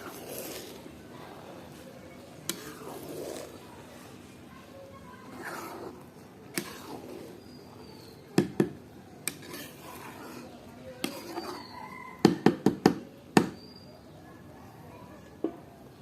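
Vegetable chorchori cooking in a pan being turned over, with soft scraping and a series of sharp metallic clinks and taps of utensil on pan, clustered near the end, under quiet talk and a faint simmering background.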